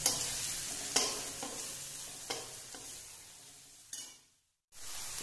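Ground spices (turmeric, cumin paste, coriander paste, chili and pepper paste) sizzling in a pan for aloo motor kofta, stirred with several sharp scraping strokes over a constant close frying hiss that cuts off briefly near the end.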